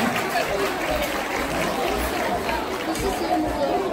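A crowd at a dance competition in Saint-Saulve claps and chatters in a steady, dense wash of applause that fills the hall, with no single voice standing out.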